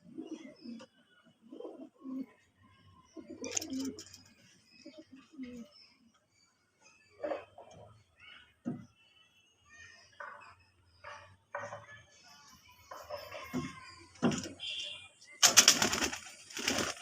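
A red-eyed male pigeon coos in low, soft bursts early on, then scattered clicks and handling noises follow, with some short broadband rustles near the end.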